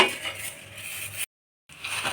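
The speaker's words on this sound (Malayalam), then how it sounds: "ഇടയ്ക്ക് നമ്മുടെ അവലും കൂടി ഒന്ന് ഇളക്കി കൊടുക്കാം." Flattened rice (aval) stirred through jaggery syrup in a pan, heard as close metallic scraping and clinking of a utensil against the pan that cuts out briefly in the middle and then resumes.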